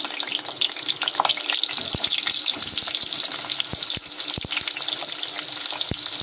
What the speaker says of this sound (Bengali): তেলটা আমাদের গরম হয়ে গিয়েছে, আর পটলগুলো দিয়ে দেব।